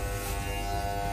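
An electric hair clipper buzzes steadily and close by during a haircut, an unbroken mechanical hum heard alone for about a second.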